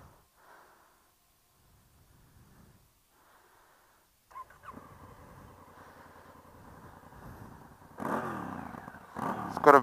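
A red 2016 Honda Africa Twin with the DCT automatic gearbox cranks and fires up after a quiet pause, settling into a steady idle that grows louder toward the end, heard close with no talking over it.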